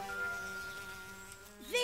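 A low steady drone hums throughout, like a large flying insect buzzing nearby, faint and continuous, with a brief rising whine at the end.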